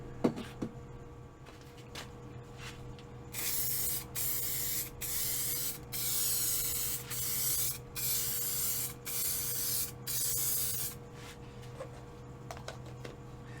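A spray gun lays down a coat of lacquer in a series of bursts, each a bright hiss lasting about a second with short gaps between, heard close in a quiet room under a low steady hum.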